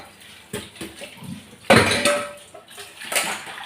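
Pots and metal vessels clatter and knock while being handled and washed at a sink with running water, with several sharp clanks and a loud splash midway, close and without talk.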